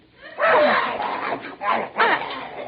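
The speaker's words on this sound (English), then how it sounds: "I hear a dog." Dog barking in an old radio comedy drama set in a family home, several bursts of yapping close by at moderate loudness, mixed with voices from the broadcast.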